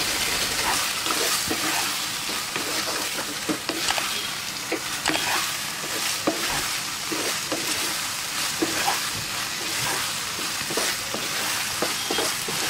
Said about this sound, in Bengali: আরও 1 মিনিট নেড়ে দিচ্ছি।